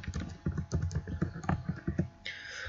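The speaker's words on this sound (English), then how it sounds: "I'm going to type in sunflower, press enter to search for it" Quick bursts of keystrokes clatter on a computer keyboard, a short run of close, distinct clicks in a quiet room.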